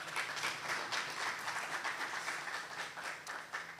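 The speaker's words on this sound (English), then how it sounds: "We can give her a round of applause" Applause from a conference audience at the opening remarks of the AFSA Conference 2025, a steady, fairly faint wash of many hands clapping that continues throughout without talk.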